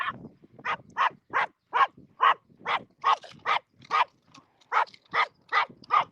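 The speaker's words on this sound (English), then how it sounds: "There's a big dog over there." A big dog barks repeatedly in a steady run of about a dozen loud, close barks with short gaps, with no talk over it.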